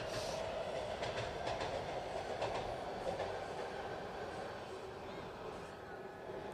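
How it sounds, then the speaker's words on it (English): A Washington Metro train runs between Northern Virginia and the District, a steady loud rumble with faint rail clatter throughout, heard near a street parade in Alexandria, Virginia. "that noise, obviously, is the metro train running from Northern Virginia into the district"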